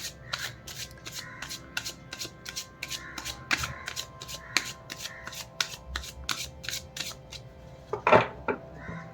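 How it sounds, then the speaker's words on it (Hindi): Tarot cards being shuffled by hand in a steady run of crisp riffling flicks, close and fairly quiet, with a louder burst of cards near the end and no talking. "बहुत स्मूथ शफल हो जाए।"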